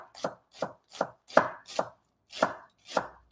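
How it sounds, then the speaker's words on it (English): A knife slices an onion into thin julienne strips on a cutting board, eight crisp, evenly spaced chops close up, with short silences between and no talking. "So we're just going to do like a nice little thin julienne on this onion."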